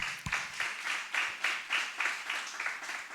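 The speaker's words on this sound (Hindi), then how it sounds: "ताली बजाए प्रभु के लिए" A church congregation claps together in a slow, even rhythm, about two claps per second, each beat distinct and fairly quiet in a reverberant hall, with no talking.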